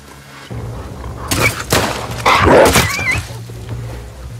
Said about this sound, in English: Oh god, there's another dog.